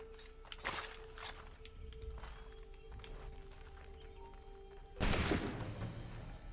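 Gunfire in the game Assassin's Creed III Remastered: a few sharp, fairly distant reports early on, then a louder, closer blast near the end that rings out over a low, steady background.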